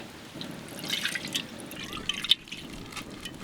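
Cooking oil poured into a pan while preparing mutton fat lemon rice, a soft, steady liquid trickle with faint dripping, close by and alone, with a brief sharper splash near the end.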